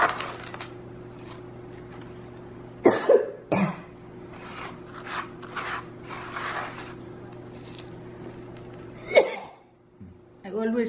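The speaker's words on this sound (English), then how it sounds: "Always start coughing" A person coughs and clears their throat in several sharp bursts while potting succulent cuttings in sandy soil, with soft rustling and handling sounds between the coughs.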